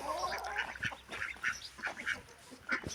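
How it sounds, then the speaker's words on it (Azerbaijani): A duck with her ducklings calls nearby in a quick run of quacks and chirping peeps, repeated about once every half second at moderate level, with no talk. "Ördək balalar və ördəyi buraya gətirmişəm."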